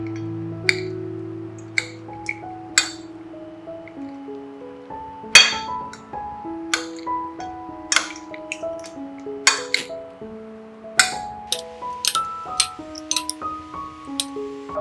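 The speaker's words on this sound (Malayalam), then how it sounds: "ഇനി നമുക്ക് ഇത് നന്നായി മിക്സ് ചെയ്തെടുക്കാം." A spoon mixes a potato and roasted peanut chaat salad in a bowl. Scattered, irregular metallic clinks and taps ring against the dish over soft background music.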